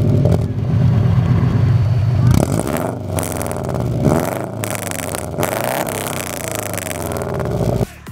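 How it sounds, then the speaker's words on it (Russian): A Subaru Impreza WRX engine revs with a deep exhaust rumble, rising and falling in a few loud bursts, close up. "звук бу-бу-бу образуется у нас путем выбрасывания выхлопных газов вот в такую трубу"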